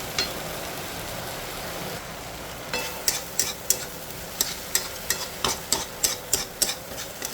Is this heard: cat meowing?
no